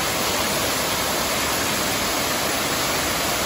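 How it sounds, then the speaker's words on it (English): Waterfall in a northern Thailand village, a loud, constant broadband roar of falling water that stays steady and close throughout with no pauses. "Waterfall."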